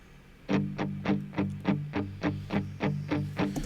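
Electric guitars played through a Matchless amp with a Telecaster, tone rolled off, chugging a steady eighth-note rhythm in even, muted strikes, moderately loud and alone.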